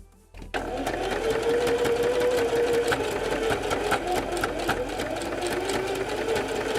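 A sewing machine stitches slowly and steadily through a thick seam while puppets are built, its motor hum and needle taps continuous and close throughout.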